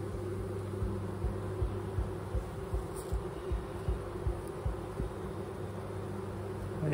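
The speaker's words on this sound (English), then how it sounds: "there's a lot of bees in there." Honeybees buzz steadily during a hive inspection, a close, continuous droning hum with small rises and dips as insects move around the open beehive, no talking.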